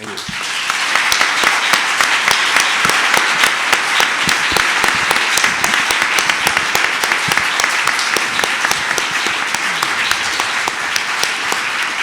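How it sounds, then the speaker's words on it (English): Loud, sustained applause from a large audience, dense clapping filling the whole stretch at an even level. "Yes, you deserve this big applause"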